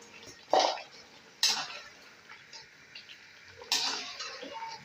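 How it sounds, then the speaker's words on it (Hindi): Chicken and potatoes dropped into a cooking pot for a desi chicken curry: three sharp clattering splashes against the pot with quiet bubbling and kitchen rustle in between. "चिकन डाल दिया, साथ ही आलू भी डाल रही हूँ।"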